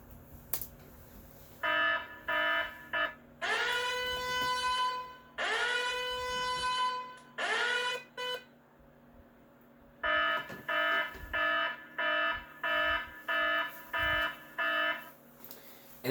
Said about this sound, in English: When the fire alarm goes off, we have to take it very seriously